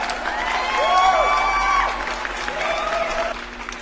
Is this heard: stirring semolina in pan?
no